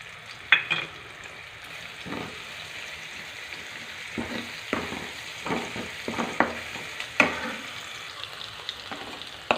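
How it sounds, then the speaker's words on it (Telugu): Onions frying in a pan with ginger garlic paste and turmeric added for a tomato egg curry, a steady sizzle broken by repeated scraping stirs, close and moderately loud with no talking. "అల్లం వెల్లిపాయ కొంచెం వేగిపోయాయండి"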